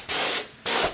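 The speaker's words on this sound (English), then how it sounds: "I'm gonna spray apply this" Oil finish is sprayed onto the leather of a custom two-piece dagger in two close, loud hissing bursts, each lasting about a third of a second.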